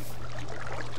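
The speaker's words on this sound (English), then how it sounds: "I love this little waterfall." Small waterfall in a blocky Minecraft-style game world, a steady soft pouring and trickling wash of water with a low hum underneath, continuous and close, with no voices.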